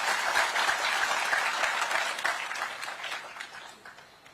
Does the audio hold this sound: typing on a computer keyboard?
no